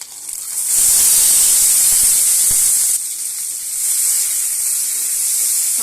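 Green chillies hit hot oil for a tempering and set off a loud, steady sizzle and hiss that begins suddenly and continues without a break.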